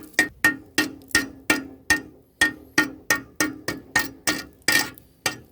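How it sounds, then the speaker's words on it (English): A hammer taps repeatedly on the rusty, scaly galvanized metal of a boat trailer to knock the scale loose, giving about a dozen sharp, evenly spaced metallic knocks, close and clear, with no talking. "I'm just going to tap over that scale with the hammer to kind of knock it off"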